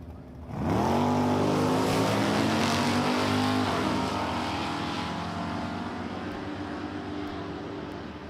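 A Ford and a Chevy drag racing car launch down the track at Empire Dragway, a sudden loud roar of engines rising in pitch, then a long sustained howl fading slightly as they pull away.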